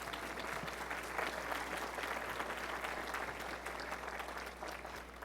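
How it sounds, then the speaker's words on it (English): The audience at a university library and information science convocation applauds graduating doctoral students, a steady, fairly quiet patter of many hands clapping throughout over a low constant hum. "Let's give them a round of applause."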